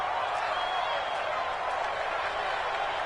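A stadium crowd in an American football video game on PS4 roars in a steady, dense wash of cheering that swells slightly, with no voices standing out.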